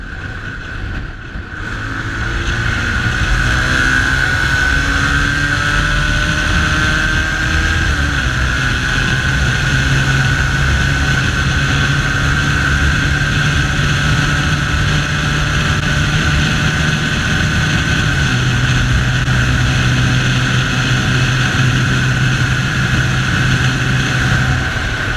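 A Bajaj Pulsar 220F motorcycle engine on a speed run, a loud, sustained drone that climbs steadily in pitch through the gears, with wind rush, heard alone from start to finish.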